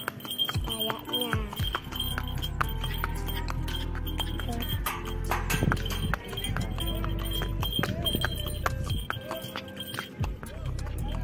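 Horse hooves clip-clop repeatedly on a hard surface during a horse ride, a steady trotting rhythm sitting close and clear with faint clinks and background voices mixed in.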